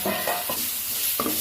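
Tomatoes with salt and sugar are stirred in a sizzling pan for a golsha fish curry. A spatula scrapes in short strokes over a constant close hiss.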